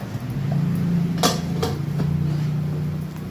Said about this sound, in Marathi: मी झाकण लावते।